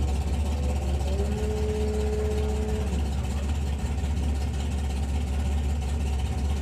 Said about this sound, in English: Sounds like a little top methanol car when it goes into stage,